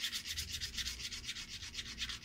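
Close, faint rhythmic rubbing of sandpaper on a handmade bomber fishing lure, quick back-and-forth strokes with an even scratchy hiss and no talking.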